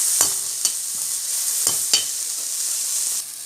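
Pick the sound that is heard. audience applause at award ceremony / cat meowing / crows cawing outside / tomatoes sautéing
tomatoes sautéing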